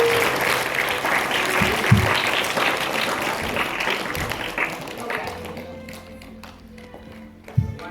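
A school morning assembly applauds a student with sustained crowd clapping that thins out toward the end, leaving scattered claps and a few faint voices.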